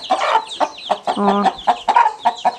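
Broody hens with two-week-old chicks on a farm, giving a run of repeated clucks and short calls at close range, with one sustained tonal call in the middle.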